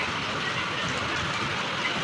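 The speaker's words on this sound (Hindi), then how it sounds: "तो कितनी बारिश हो रही" Monsoon rain falls outside as a dense, even hiss that stays constant and fairly soft throughout, with no voices.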